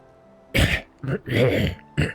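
A narrator's voice imitates a man being choked by the throat, coughing and sputtering in four short, rough bursts close to the mic.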